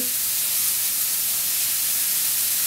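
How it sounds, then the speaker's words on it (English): Ground beef browning in a pan gives off a steady, close sizzling hiss that stays even and unbroken throughout. "All we're doing here is just browning the beef."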